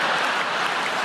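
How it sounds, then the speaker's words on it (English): Comedy club audience applauding at a stand-up show, a dense, steady wash of clapping that fills the whole brief moment without a break. "Don't applaud that, man."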